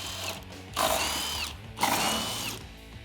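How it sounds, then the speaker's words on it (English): A power tool with a 21 mm socket and six-spline lug key works the lug nuts on a Jeep Wrangler JL, giving two loud, close bursts of whirring with short pauses between them. "I'm going to use our 6-spline lug key and a 21 millimeter socket"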